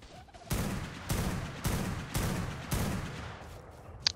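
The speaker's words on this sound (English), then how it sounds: "He keeps sniping me off my Reaper" Sniper fire in an Ark PvP raid: five sharp gunshots spaced about half a second apart, each with a short ringing decay, moderately loud and alone, then a small click at the end.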